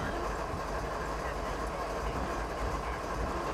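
In Train Sim 2015, a CSX train rolls forward without brakes, producing a continuous heavy rail rumble with faint wheel clatter; the noise stays even and close throughout.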